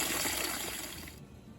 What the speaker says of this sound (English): fill a big bowl of cold water